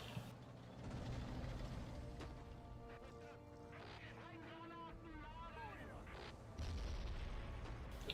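Mortar rounds explode in the World War II strategy game Men of War: Assault Squad 2 as muffled, rumbling booms. Other battlefield noise and a talking voice sit over them.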